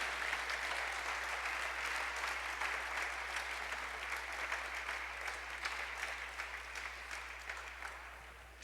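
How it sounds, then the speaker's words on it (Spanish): Sustained applause from an audience at a church service, a dense steady wash of clapping lasting the whole stretch and tapering slightly at the end. "Denle un aplauso para que se animen"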